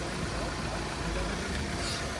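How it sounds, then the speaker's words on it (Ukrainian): Audi car engine idling steadily, a close, continuous low broadband rumble with no breaks or revving. "І Двигунчик працює гарно, чистенький"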